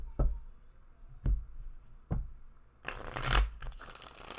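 A deck of cards is shuffled by hand: three sharp separate taps, then a dense, riffling burst of shuffling that fills the last second and a half, close and fairly loud with no talk.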